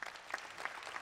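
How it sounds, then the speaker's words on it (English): Applause at a Los Angeles Metro State of the Agency meeting, a brief, fairly quiet patter of clapping from a modest group, steady with small peaks. "Stephanie is applauding."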